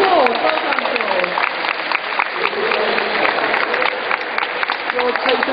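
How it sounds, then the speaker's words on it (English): Applause from a small audience at a dog handling demonstration, honouring handler George after a pack handfeeding session; steady clapping with some voices mixed in throughout. "A round of applause."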